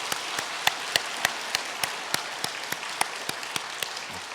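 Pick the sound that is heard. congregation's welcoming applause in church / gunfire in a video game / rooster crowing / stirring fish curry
congregation's welcoming applause in church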